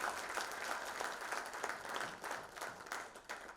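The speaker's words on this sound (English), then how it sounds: "let's give a big round of applause for those who made it happen" Faint, distant applause from an audience at an awards ceremony, a soft, even patter of many hands that keeps going through the short span.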